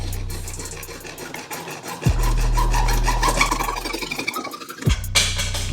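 Rough back-and-forth rasping of a hand saw cutting through PVC pipe, steady strokes close by, with brief pauses and clunks between passes.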